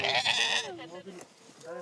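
Cashmere goats of Mongolian Gobi desert nomads bleat in a short, wavering cry, close and fairly loud, followed by another brief bleat.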